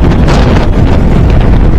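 Strong wind buffets the microphone during a motorbike ride from Manesar to Panipat, a loud, continuous roaring rumble with no talk.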